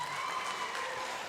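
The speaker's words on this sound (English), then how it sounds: "Give yourselves a round of applause." An audience claps together after a motivational talk, a short, dense burst of applause at steady loudness.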